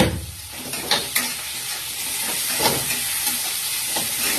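Onion, capsicum and chopped green chilli frying in a pan for an egg dish, a steady close sizzle with a few stirring scrapes and clinks, and no voices.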